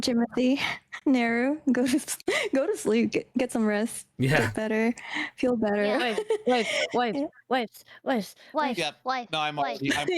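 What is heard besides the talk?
No distinct noise like a dog, phone or traffic.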